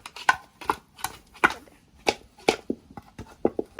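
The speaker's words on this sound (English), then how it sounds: "We're mixing up the seasoning with the meat now." Hands working thyme, black pepper and salt into raw meat in a bowl, a series of soft wet squelches and slaps in an irregular rhythm, close and fairly quiet.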